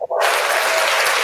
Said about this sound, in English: I'm going to give everyone a round of applause